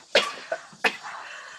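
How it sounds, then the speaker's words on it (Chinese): Two sharp, close coughs about 0.7 seconds apart, each followed by softer breathy throat sounds, from someone ill with a cold. "怎么咳嗽这么严重啊？"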